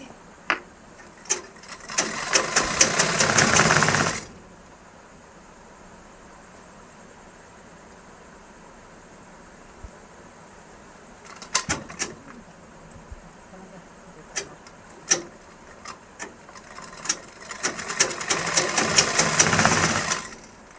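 Electric sewing machine stitching a blouse runs in two long loud bursts of rapid whirring at the start and end, with a few short stops and starts between them and a quiet pause in the middle.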